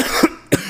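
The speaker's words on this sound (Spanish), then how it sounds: "¡Mira cómo estás de la tos!" Three short, sharp coughs from a sick boy, close and loud, coming in an irregular rhythm with brief raspy gaps between them.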